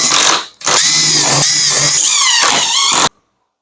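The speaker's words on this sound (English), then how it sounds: "I'm going to put a screw in this way." Cordless power drill driving a screw into wood, a steady high whine running about two and a half seconds with a brief dip near the start and slight pitch wobble before cutting off, loud and close with no talk.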